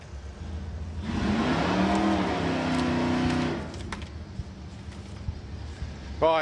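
A drag racing Pop Coupe with a 302 cubic inch small block engine roars at a distant strip, the engine note rising and holding for a couple of seconds before fading into quieter ambient noise.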